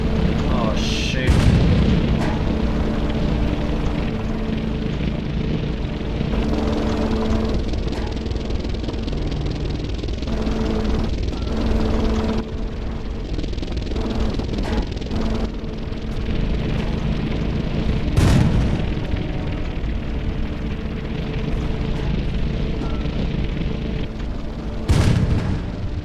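Explosions in a tank video game as an anti-tank gun is destroyed: several loud booming blasts spread across a continuous engine drone, with bursts near the start, middle and end, and a voice talking at times.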